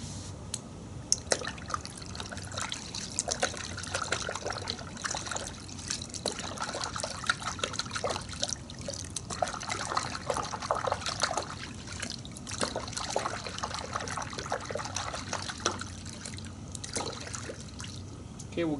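Warm water runs into a bucket mixed with Chemical Guys V07 car wash soap, a steady close trickle and splash with small drips throughout.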